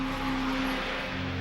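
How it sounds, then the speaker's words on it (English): A FedEx airliner in flight toward Memphis Airport gives off a steady engine drone with a constant tonal hum, loud and unbroken over a broad rushing noise, with no voices. "The airplane is heading for the safety of Memphis Airport"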